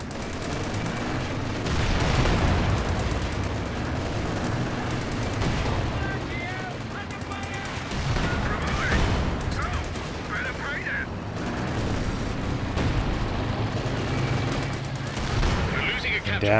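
Artillery and gunfire in a Company of Heroes 2 World War II battle, with two Comet tanks using coordinated fire: dense, continuous rumbling barrages and overlapping bursts of shots under game noise throughout.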